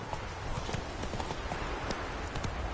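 Horse hooves galloping in the video game The Witcher 3, a steady rapid clip-clop beat running throughout at moderate loudness, with faint game ambience behind.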